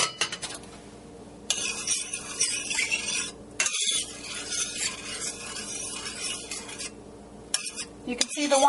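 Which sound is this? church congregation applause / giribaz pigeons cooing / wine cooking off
wine cooking off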